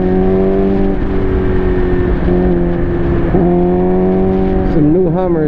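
A Suzuki GSX-R motorcycle pulls steadily in third gear, its engine a sustained, close drone that rises slightly in pitch over a few seconds with constant wind rush.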